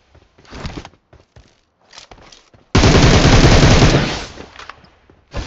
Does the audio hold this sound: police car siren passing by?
no